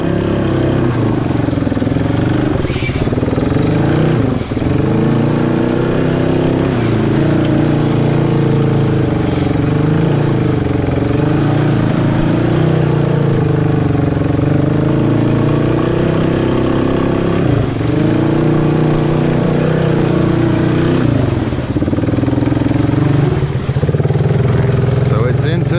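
A Honda 300 ATV engine runs continuously while being ridden through a backyard swamp, with a steady mid-pitched drone that rises and falls with throttle, close and loud, as someone talks over it.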